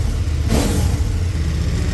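A 2014 KTM Superduke motorcycle engine revs once, sharply and close by, then settles back into a steady, throbbing rumble.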